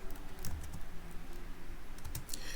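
Close, soft clicks from a computer keyboard being typed on in a few short bursts, with a fairly steady quiet background between keystrokes.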